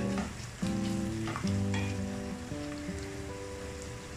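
Diced onions sauté in half a cup of oil in a pan for mutton chops masala, giving a steady, close sizzle and hiss. Tonal background music plays under the frying.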